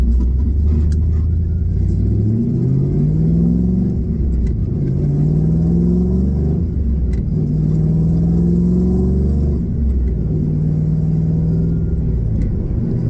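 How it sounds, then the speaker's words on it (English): A 1990s Chevrolet Camaro with a T56 six-speed manual drones loudly, rising in pitch as it accelerates through several gear changes, with a deep rumble throughout. "we're in the Camaro first. We're going to take this thing for a ride."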